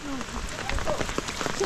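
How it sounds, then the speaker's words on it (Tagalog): Heavy rain pours steadily as a dense, broadband hiss throughout, with people talking close by over the downpour. "Ang lakas nga ng ulan."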